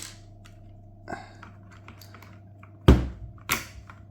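A few separate clacks of Budgerigar tactile switches on a mechanical keyboard, spaced out over a steady low hum, with two firmer presses near the end.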